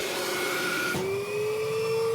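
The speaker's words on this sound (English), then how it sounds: "That vacuum really has some suction power." A 1350-watt vacuum cleaner with strong suction runs loudly and steadily indoors. It gives a constant whine that shifts to a higher pitch partway through and then holds.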